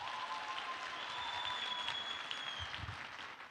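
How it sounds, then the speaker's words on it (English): Sustained applause from an audience, steady and fairly faint, with a few faint whistles rising over the clapping. "a round of applause for the gentleman"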